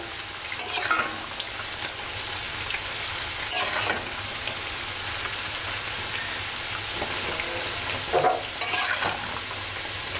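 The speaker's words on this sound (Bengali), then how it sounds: "পেঁয়াজ ভাজা দিয়ে দিচ্ছি।" Fried onions tipped into a frying pan of potato bhaji and stirred, a steady close sizzle with scraping stirs and brief louder bursts near the start, middle and end; no voices.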